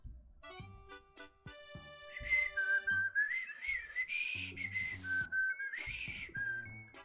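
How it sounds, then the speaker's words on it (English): A person whistles a short melodic tune, a clear close pitch gliding between notes in a few phrases, over sparse background music. "Sorry, I keep whistling."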